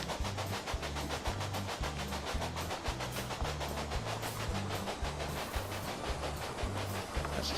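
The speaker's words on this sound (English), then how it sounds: "Choo-choo! Let's ride along as it comes into Cheyenne." A steam-era train pulls into Cheyenne station in the railway management video game Railway Empire, giving a steady rumbling roll with regular low clickety-clack beats throughout, moderately loud and continuous.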